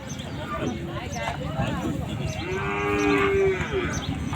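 Bulls at a crowded Chandaikona cattle market give a long, resonant moo in the second half, close and clear over a background of voices and shuffling hooves.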